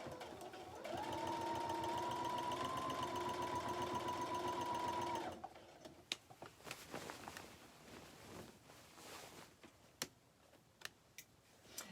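Sewing machine stitching a seam on a ribbon skirt, a steady fast mechanical run of about five seconds, fairly quiet and close, followed by soft handling clicks and rustling of fabric.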